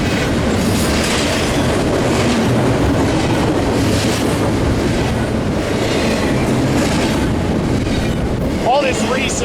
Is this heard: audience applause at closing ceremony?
no